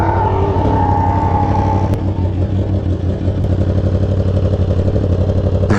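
Dodge Challenger engine idling at a bike night among a crowd of sportbikes: a loud, steady, deep rumble with a throaty pulsing beat, close by and continuous, with a rising rev near the start.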